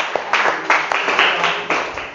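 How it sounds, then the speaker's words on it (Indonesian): Applause from students in a classroom, a short burst of fairly loud, close clapping with uneven overlapping hand claps. "Beri tepuk tangan untuk semuanya,"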